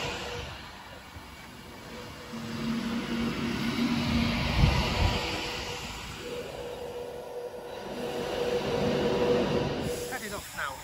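A Class 390 electric train, unit 390042, pulls away from Wigan North Western toward London Euston with a broad, steady rumble that swells and fades and swells again over about ten seconds. Faint hums and sounds from the station sit around it.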